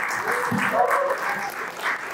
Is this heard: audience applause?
yes